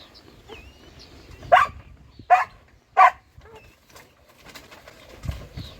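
West Siberian Laika dogs at a small rural kennel bark three times in sharp, loud, evenly spaced bursts, with quieter yips and background noise before and after.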